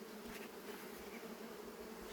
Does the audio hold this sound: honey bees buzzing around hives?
yes